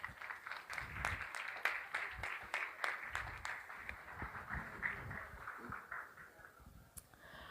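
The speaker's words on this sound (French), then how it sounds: "Sous vos applaudissements, mesdames et messieurs" Faint, scattered applause from an audience welcoming performers onto a stage, with sharp distinct claps standing out over a thin, uneven background.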